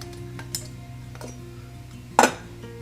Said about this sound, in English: this is a zebra billy pot. It's a 14 centimeter pot.